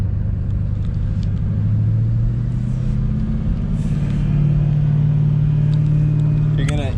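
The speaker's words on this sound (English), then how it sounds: "the more that you let it go, the higher it's gonna keep on revving" A manual stick-shift car engine idles and rises into steady revving, a loud continuous drone that climbs in pitch partway through and holds, close up with no talk.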